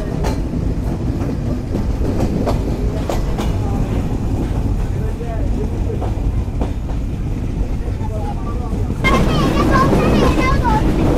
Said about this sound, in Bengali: আন্তনগর কপোতাক্ষ এক্সপ্রেস ছেড়ে গেল কোটচাঁদপুর রেলওয়ে স্টেশন থেকে বিকেল 6টা 24 মিনিটে